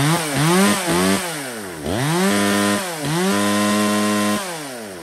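A Stihl 020 chainsaw runs close and loud, its engine revving up and dropping back to idle several times in a rising and falling whine.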